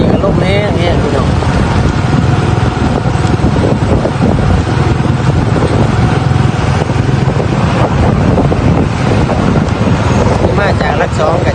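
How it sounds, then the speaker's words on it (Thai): Dry wind buffets the microphone outdoors at a roadside border checkpoint near Pakse in southern Laos, a steady loud rumbling gust noise filling the whole stretch without letting up. "บรรยากาศวันนี้ก็ลมแห้ง"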